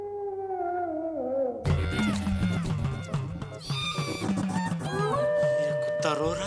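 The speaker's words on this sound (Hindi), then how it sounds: "ये कुत्ता रो रहा है," A dog howls at night, a single long wavering cry that slides downward, then gives way to agitated voices and music in a Hindi sitcom household.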